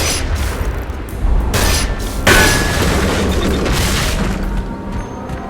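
Heavy booming gunfire and impacts ring out as large bolts on chains are shot in the video game Damnation on PS5, with several loud bursts and metallic crashes over a sustained rumbling mix.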